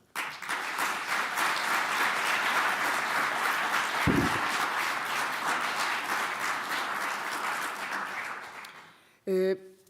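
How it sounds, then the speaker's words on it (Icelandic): An audience at an aviation event claps in sustained, dense applause that fills the room for several seconds, then fades out before a brief voice at the end. "Og ég vil bara að þið klappið fyrir þessu fólki sem er og stendur í stafni fyrir ykkur."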